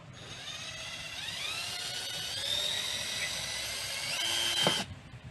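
An electric drill whines steadily into a pipe at a marked spot while building a pond water system, its pitch rising and shifting as it bites, then cuts off abruptly after about five seconds.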